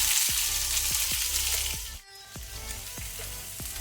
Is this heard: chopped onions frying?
yes